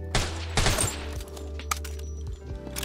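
Rapid bursts of gunfire in the video game Deathly Stillness, loud and close, with a dense volley at the start and scattered shots trailing off afterward.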